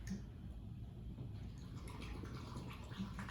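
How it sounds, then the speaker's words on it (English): Liquid poured steadily into a container for an acid-base balloon experiment, a soft continuous trickling and gurgling close by that runs unbroken for a few seconds, with no talk over it. "I want you to pour it in until I say stop"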